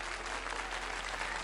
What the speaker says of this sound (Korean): 하나님께 먼저 감사의 박수 올려드릴까요?